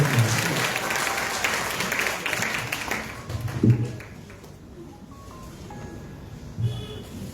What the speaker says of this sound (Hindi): और तालियां आप एक बार बजा दीजिए